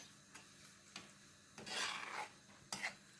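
Sugar stirred into an apple cookie mixture, heard as a few separate scraping, rasping strokes of a spoon against the bowl, close and faint, with one longer sweep in the middle.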